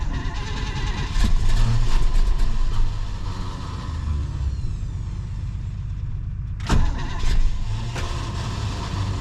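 A 1967 Pontiac Grand Prix convertible engine cranks and runs rough, with uneven revving, a brief sharp burst partway through and a steady mechanical rumble throughout.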